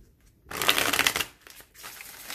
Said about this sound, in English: I knew it was going to shuffle gorgeously because of the thinner card stock.